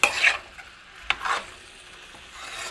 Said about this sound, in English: you're going to keep stirring it because it's got olive oil in it already